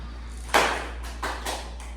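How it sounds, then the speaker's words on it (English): Students in a classroom give a few scattered claps: one sharp, loud clap followed by two softer ones a moment later, all standing alone over a low steady hum. "Y'all get more clap"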